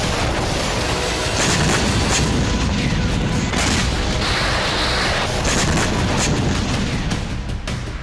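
GRAD multiple rocket launcher fire and explosions roar in a loud, dense, continuous rumble with repeated booms and sharp launch bursts overlapping throughout.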